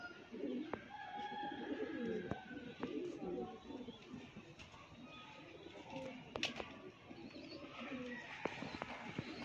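Pigeons cooing softly in a loft, low repeated coos blending with faint chirps and rustling, with people talking throughout.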